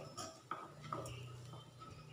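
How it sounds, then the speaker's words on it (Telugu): A spoon stirs a coconut and chili powder mixture in a metal pan, with scraping and a couple of sharp clinks against the pan, fairly quiet and close. "వేసిన తర్వాత మరోసారి బాగా కలిపేసుకోవాలి"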